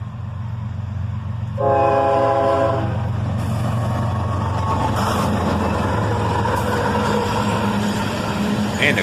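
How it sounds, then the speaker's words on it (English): CSX locomotive horn sounding a short salute at a railroad crossing: a loud, near, sustained chord lasting about a second, over the constant rumble of the passing train and engine drone. "And a quick horn salute there"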